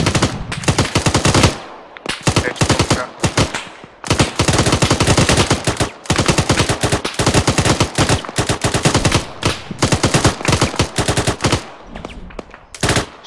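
Automatic gunfire in the military shooter game Arma, repeated loud bursts of rapid shots separated by brief pauses, continuing for over ten seconds with no talk.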